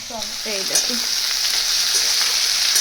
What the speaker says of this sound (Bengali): এখন আলুগুলোকে ভেজে ভেজে তুলে নিই